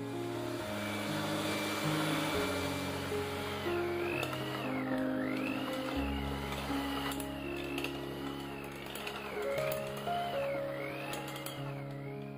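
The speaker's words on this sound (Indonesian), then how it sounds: "lalu mixer kembali hingga adonan tercampur rata" An electric hand mixer kneads potato doughnut dough made with steamed mashed potato, a steady motor whine with a wavering pitch running continuously and close by.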